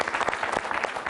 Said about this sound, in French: Emilio, mesdames, messieurs, on applaudit très très fort.